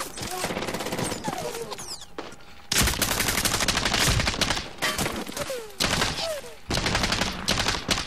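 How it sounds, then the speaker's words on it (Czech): A Medal of Honor: Warfighter video game firefight: sustained bursts of automatic fire broken by brief lulls, with whizzing ricochet-like sweeps and dense clatter, loud and continuous throughout. "Ty vole, je přestřelka."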